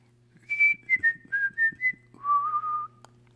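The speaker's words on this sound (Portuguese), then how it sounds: "E eu quero demonstrar este assobio." A person whistles a short melodic call in the Campinas style, the assobio campineiro: a series of clear, close whistled notes that step downward, then a longer lower sustained phrase, over a faint steady hum.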